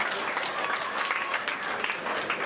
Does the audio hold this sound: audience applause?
yes